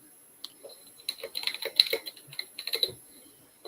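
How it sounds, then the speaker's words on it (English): Computer keyboard typing in bursts of rapid, irregular keystrokes, fairly close and loud, with short pauses between runs and no talking. "we can hear keyboard loudly"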